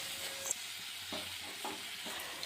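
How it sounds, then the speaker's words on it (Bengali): Kochur loti (taro stolons) frying in a pan, a steady soft sizzle with gentle stirring scrapes every half second or so, faint and close, no voices. "এবারে নেড়ে চেড়ে একটু ভালো করে ভাজা করে নেব।"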